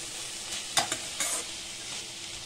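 Chili and pepper powder frying lightly in oil in a pan, a steady soft sizzle with a few sharp scraping stirs partway through.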